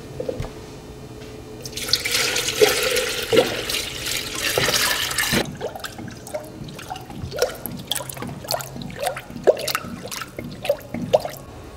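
Coolant pours steadily from a bucket into a Nissan Pathfinder radiator for a few seconds with a rushing splash, then settles into irregular glugs and drips close by.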